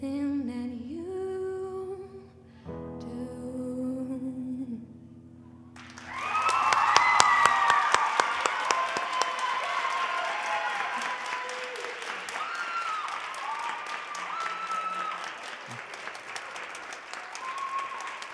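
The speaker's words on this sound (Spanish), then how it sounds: "Le mantenemos entonces un gran aplauso a Laura por esta interpretación" A sung passage ends with a held note, then a large crowd breaks into loud, sustained applause that continues steadily.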